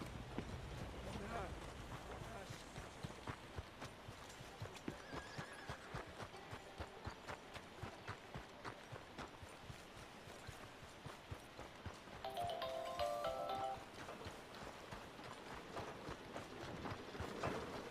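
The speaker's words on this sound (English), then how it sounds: "meu cavalo veio pra cá" A horse in Red Dead Redemption 2 approaches with a run of faint, rapid hoofbeats clopping steadily under game background sound, with a brief tonal chime partway through.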